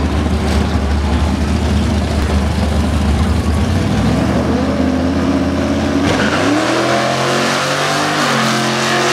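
A drag race between a Switzer R1K GTR and a Plymouth Duster dragster, with loud, continuous engine roar that rises in pitch as the cars accelerate hard through the gears.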